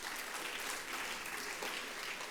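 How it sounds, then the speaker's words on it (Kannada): An audience at a stage program applauds, a faint, even wash of clapping heard from a distance, continuing steadily without a break. "ಇದಕ್ಕೂ ಒಂದು ಚಪ್ಪಾಳೆ ಬರಲಿ"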